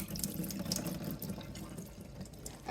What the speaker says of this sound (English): I will go like this, sieving out the water